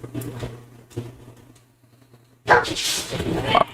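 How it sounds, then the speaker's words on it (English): A pet dog in a home, at odds with a cat, breaks into a sudden loud, close burst of barking and yipping near the end, after a stretch of quieter room sound. "I have a dog and a cat, and they don't get along sometimes. That's what you're hearing right now."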